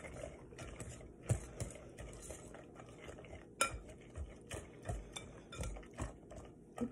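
Banana nut muffin batter with walnuts is whisked in a bowl, giving continuous scraping and stirring with irregular clinks against the bowl, fairly quiet and steady throughout.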